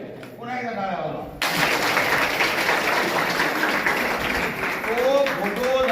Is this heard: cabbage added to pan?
no